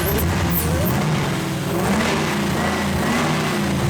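A Ford SVT Lightning pickup revs with its mass airflow sensor unplugged, the engine running at speed density. The engine drones loud and steady throughout, with a slight dip in the middle before it climbs again.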